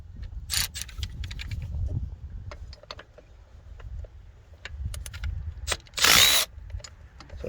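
Bolts on a power steering pump of a 1997 Grand Cherokee V8 are broken loose with a wrench, giving scattered close metallic clicks and ratchet ticks with short creaks and a sharp burst near the end, in a quiet garage.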